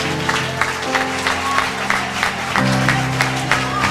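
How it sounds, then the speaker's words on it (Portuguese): Church congregation applauding at the close of a praise congress at the ADNV assembly in Vale Encantado, a steady dense clapping over sustained music tones, with some voices mixed in throughout. "Essas palmas são para o Senhor."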